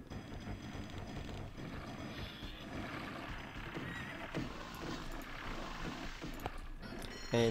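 A horse in the medieval strategy game Knights and Merchants, with faint game whinnying and hoof clatter blended into a dense, steady wash of background game sound.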